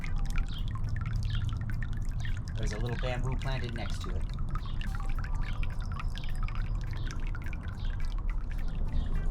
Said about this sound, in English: there's a tub underneath that the water can cycle through and come out the bamboo spout